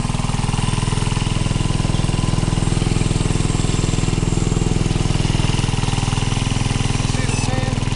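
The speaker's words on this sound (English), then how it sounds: "I'm fixing to start dredging" A gold prospecting dredge engine runs steadily and loudly nearby on a riverbank, a constant throbbing drone with no pauses.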